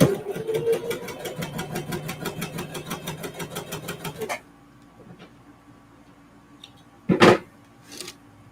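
A sewing machine stitches through denim jeans in a fast, regular mechanical chatter for about four seconds, then stops, leaving near-quiet with a few faint clicks and a short bump later.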